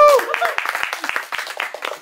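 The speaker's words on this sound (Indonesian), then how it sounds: "Beri tepuk tangan dulu dong." Audience clapping at an arts performance, a burst of scattered hand claps continuing for a couple of seconds after a brief sung tone, fairly close with some voices mixed in.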